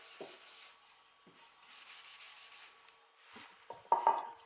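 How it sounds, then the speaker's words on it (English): Dry cloth rubbing excess antique-colour finish off a wooden puzzle box, a faint soft swishing that comes and goes in short strokes, with a few light knocks and a brief squeak near the end. "then the excess is rubbed off with a dry cloth"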